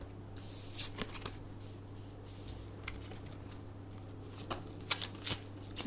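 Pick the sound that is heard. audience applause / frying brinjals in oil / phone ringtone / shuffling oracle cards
shuffling oracle cards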